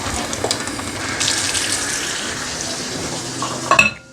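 Tap water runs steadily into a container for about four seconds, filling five cups for a venison soup, a continuous close splashing hiss with a brief clink near the end.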